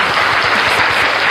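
Audience applause at a live event, a dense, steady wash of clapping that stays loud and even throughout with no voices standing out.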